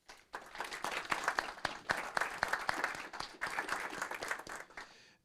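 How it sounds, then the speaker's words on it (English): Audience applause fills a city council meeting chamber as the room honors a VFW post and its auxiliary. Steady, dense clapping runs for about five seconds, then cuts off abruptly. "please join me in giving one more round of applause"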